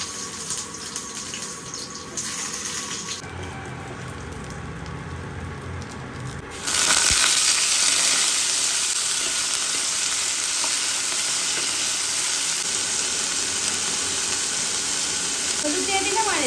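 Dried red chillies and five-spice seeds drop into hot oil, and a quiet kitchen background suddenly bursts into a loud, sustained, crackling sizzle that continues close and steady.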